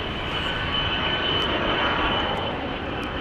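A JSX Embraer 145 regional jet departing Dallas Love Field, a steady loud roar of jet engines held evenly throughout at a moderate distance, with no voices.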